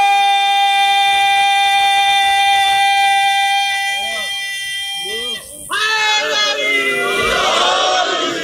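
A large crowd at a religious gathering answers slogans by chanting in unison, a sustained loud mass of voices that swells into a roaring response.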